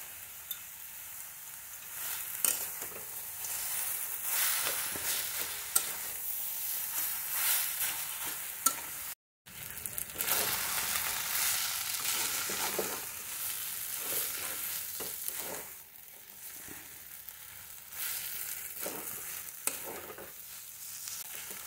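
Potatoes and peanuts fry in a pan as a steady, close sizzle, with occasional stirring scrapes and a brief break partway through.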